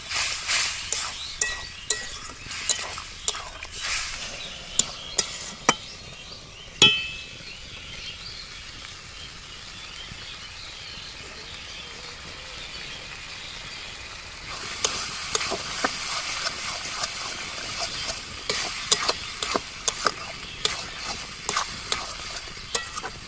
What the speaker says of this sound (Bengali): জল দিয়ে মশলাটা আমি ভালো করে সেদ্ধ করে নেব